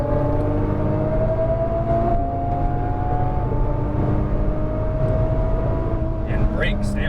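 Nissan GTR engine pulling hard on a race track, a steady in-car drone with a rising tone, under a coach's voice giving instructions.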